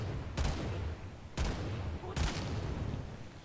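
Heavy gunner weapon fire in a video game, three loud booming bursts spaced about a second apart over a steady rumbling game background.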